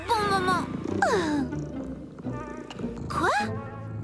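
A cartoon cat gives several drawn-out, pitch-bending meows and yowls in close succession, loud and near, over faint background music.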